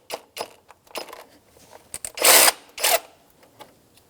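A 12mm socket wrench working the A/C belt pulley nut on a 2004-2009 Subaru Outback, irregular clicks and ratcheting bursts close up, with two longer grinding turns toward the middle, no voices.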